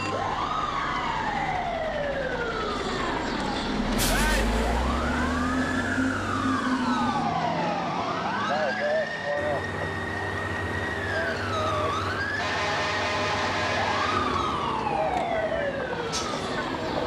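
Fire engine sirens responding to an alarm, several wailing and yelping sirens rising and falling and overlapping, with a low horn blast and engine rumble, loud and continuous as vehicles pass.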